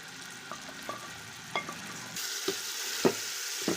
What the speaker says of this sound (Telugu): ఈ మగ్గనిచ్చిన ఈ చికెన్ని కూడా ఈ మసాలాల్లో ఇలా వేసేసుకోవాలి